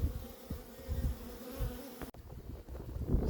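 Honey bees at a hive under bear attack, a dense steady buzzing of many insects close by, with a sharp knock partway through and continued buzzing after.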